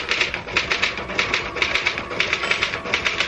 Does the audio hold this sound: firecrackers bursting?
no